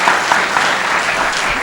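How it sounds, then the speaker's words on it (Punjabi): Audience applause at a live Punjabi comedy stage show, a dense steady burst of many hands clapping together, loud and close throughout the short moment. "ਇਹਨਾਂ ਦੇ ਨਾਂ ਦੀ ਤਾੜੀ ਮਾਰਦੇ ਨੇ"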